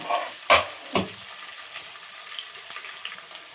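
Potatoes fry in a pan for upma with a soft, close sizzle, broken by a few sharp scrapes and clatters as they are stirred, and no talking.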